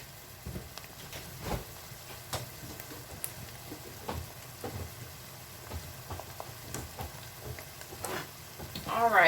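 Garlic sizzling in a frying pan beside meatballs, a soft crackling hiss with scattered pops and stirring scrapes, growing louder toward the end.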